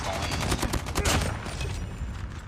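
Rapid bursts of automatic gunfire from a Call of Duty Mobile match, loud and dense, with repeated shots overlapping into a continuous fusillade for a couple of seconds.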